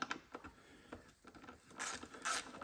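A 6mm hex tool loosening a jubilee clip on the intake of an S62 engine makes quiet ratcheting clicks and small mechanical rattles, up close and faint.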